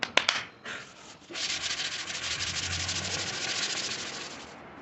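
A few sharp taps on the sandpaper, then steady rhythmic rasping of 220-grit sandpaper sanding primer on a car body part close by, continuing for several seconds with no talking.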